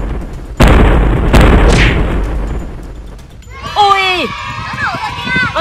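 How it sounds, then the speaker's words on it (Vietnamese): Two heavy booms from a coastal cannon firing at Godzilla in a video game, loud and close, followed by a rumbling tail and then bright warbling electronic game effects near the end. "Khẩu pháo này mạnh lắm đấy, nó có thể tiêu diệt được mọi con quái vật ở đây đấy."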